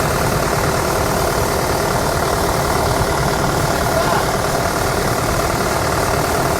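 A tractor engine idles steadily and close by, a constant low rumble with no break.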